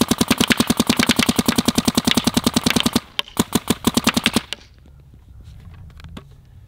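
A Planet Eclipse Geo R5 paintball marker fires a rapid, steady burst of loud sharp shots, then a few slower spaced shots before stopping, leaving faint background noise.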